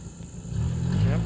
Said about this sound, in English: Got the exhaust rattle fixed.